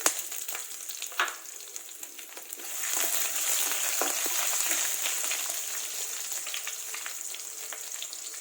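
Thinly sliced onions hitting hot oil in a pan with cumin, a few clattering stirs first, then a loud, steady sizzle that swells and holds close, with occasional spoon scrapes.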